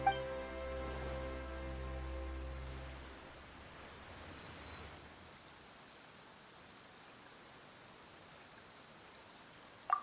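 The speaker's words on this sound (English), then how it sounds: "Why is it raining all of a sudden?" Soft, steady rain patters as a faint hiss after a musical tone fades out in the first few seconds, continuing quietly to the end; rain in the video game Genshin Impact.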